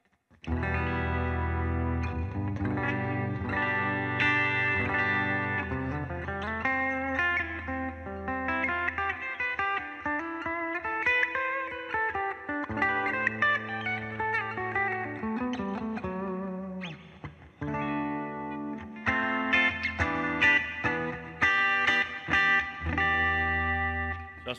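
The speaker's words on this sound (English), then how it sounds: "Okay, so this is the bridge on the Gibson SG." A Gibson SG electric guitar played through the bridge pickup with overdrive rings out in sustained distorted chords and melodic lines, loud and close, with effects adding shimmer and a short pause midway.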